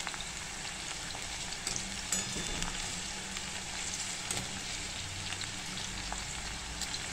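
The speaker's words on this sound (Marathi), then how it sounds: "अशी आपण आता भेंडी तळून घेणार आहे ही। हे पहा, अशा प्रकारे आपल्याला ही भेंडी तळून घ्यायची।" Okra (bhindi) frying in oil for dahi bhendi, a steady dense sizzle and crackle running continuously throughout, close and fairly loud, with occasional faint clinks.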